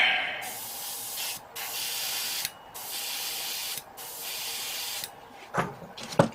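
Compressor-driven airbrush spraying paint onto a Gundam model kit, loud hissing bursts of about a second each separated by brief pauses, followed by softer handling noises at the end.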